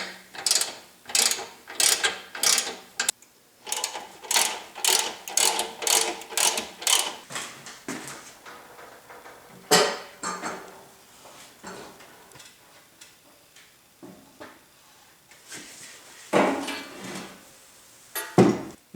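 A threaded rod being turned against a block to separate the frame from the base of a Yates American J180 machine, giving repeated close ratcheting clicks in quick bursts, then slower scattered metallic knocks and clunks.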